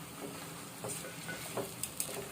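Whole cleaned fish go into a pan of sizzling masala for chepala pulusu, a quiet sizzle with a few soft clinks and taps from the pan.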